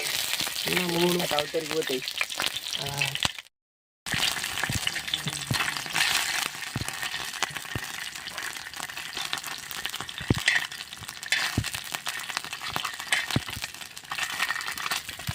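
Fish frying in oil, village style, a loud steady sizzle with scraping stirs and occasional clinks throughout, interrupted by a brief silent gap; a voice talks early on over the frying.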